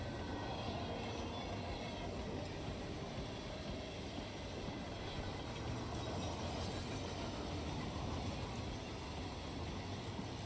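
Steady rumbling train motion in the Hitman video game's Romania level, a dense low roar with mechanical clatter running unbroken and loud throughout.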